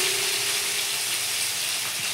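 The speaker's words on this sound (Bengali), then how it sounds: "পনিরটা আগে কেটে নিলাম, দিয়ে তেলে ভেজে নেবো" Paneer pieces frying in hot oil in a home kitchen give off a steady, close sizzle that holds evenly throughout, with no talk over it.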